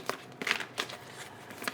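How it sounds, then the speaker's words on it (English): Quiet, close riffling and soft slaps of tarot cards being shuffled, a few short bursts of papery flutter in an irregular rhythm. "Shuffling the cards."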